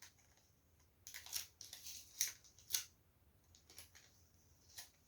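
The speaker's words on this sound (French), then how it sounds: "on va venir y mettre un scotch au milieu" Several short, crackly rips of adhesive tape being pulled off and pressed down, close up, separated by quiet pauses.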